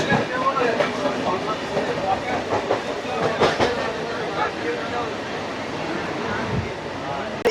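The 36830 Bardhaman–Howrah super local train runs at speed on the chord line, a continuous rumbling rattle with clicking wheel beats and occasional bangs, heard from inside with a voice faintly beneath.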